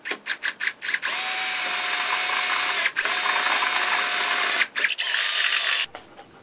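A power drill with a reamer bit drills out holes, whining in short bursts, then running in long steady stretches with brief pauses, loud and close, its motor pitch shifting slightly under load.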